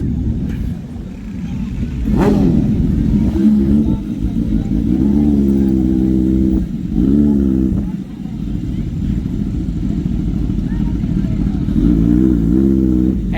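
A car with an aftermarket exhaust revs loudly in a few bursts, its exhaust roaring and rumbling under ongoing talk.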